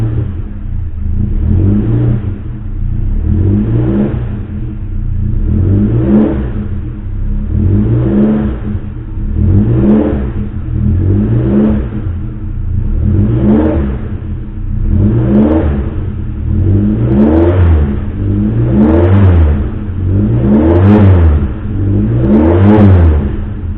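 A Suzuki Jimny Katana engine is revved over and over in a steady rhythm of about a dozen rises and falls while cleaner runs through it, loud and close with no talk.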